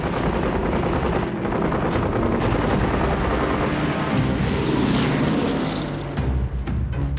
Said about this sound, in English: Nose cameras from Bristol Beaufighter ground attack aircraft reveal Axis supply convoys being strafed at close range.